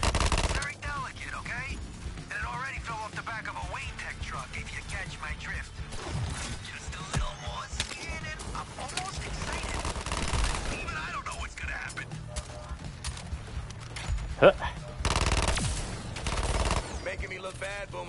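Sustained gunfire from the video game Suicide Squad: Kill the Justice League, dense rapid shots and crashing impacts running throughout, with voices talking over the battle.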